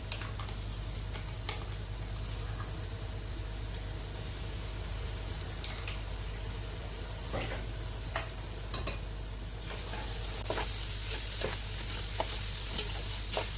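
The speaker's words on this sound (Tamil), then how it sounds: "எல்லாம் சேர்த்து அந்த பச்சை வாசம் போகிற வரைக்கும் நல்லா மிக்ஸ் பண்ணுங்கள்." Onions fry with ginger garlic paste for mutton biryani, a steady low sizzle under a low hum with scattered close ticks and scrapes from the stirring spoon, growing slightly brighter toward the end.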